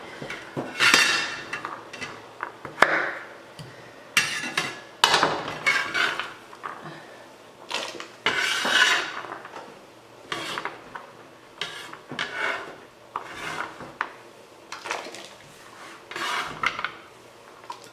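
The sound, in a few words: chopped carrots thrown into a pot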